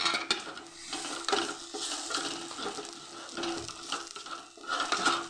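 A spoon stirs potato and green pea curry masala, with a little chicken masala added, around a pan. Irregular scraping and mushy churning come over a soft sizzle, close up and moderately loud, rising and falling with each stroke.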